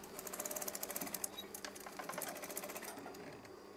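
Sewing machine stitching fabric for a hanging curtain, a loud, steady rapid mechanical chatter running continuously close by.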